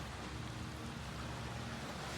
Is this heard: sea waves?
yes